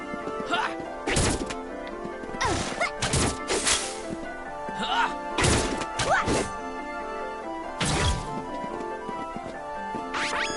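In the Secret of Mana video game, an axe lands in repeated sharp, heavy whacks, about six or seven irregular hits over a background of game music and effects.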